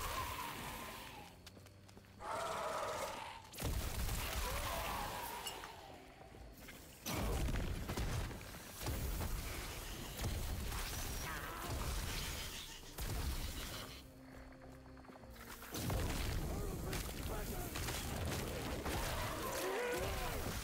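Fire-spell explosions from a mage's runemaster build in the action RPG Last Epoch burst repeatedly in dense, crashing waves of game combat noise, with brief gaps between the blasts and no talk.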